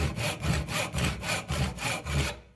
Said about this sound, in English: a little slot there with the tenon saw